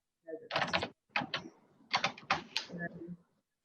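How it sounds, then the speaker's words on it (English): Keyboard typing clatters in quick bursts during an online video call for a parliamentary committee hearing, mixed with a voice talking over it. "there was typing, so I'm not sure if others were able to hear what you were saying"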